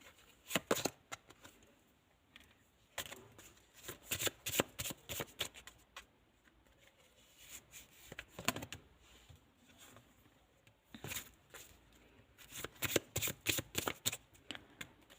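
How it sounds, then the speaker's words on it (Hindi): Tarot cards being shuffled by hand nearby, coming in several bursts of quick riffling flutter separated by short pauses. "पहले मैं कार्ड ले लेती हूँ सभी, फिर करते हैं कंटिन्यू"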